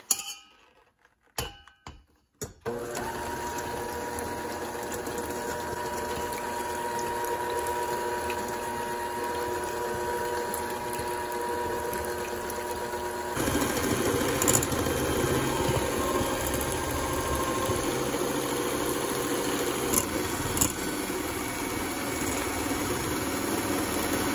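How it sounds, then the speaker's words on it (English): Four eggs beaten, likely with an electric beater, for banana walnut muffins; a steady motorized whir runs for about twenty seconds after a few brief knocks, getting slightly louder midway, with no talk. "I have taken 4 eggs and I'm going to beat them."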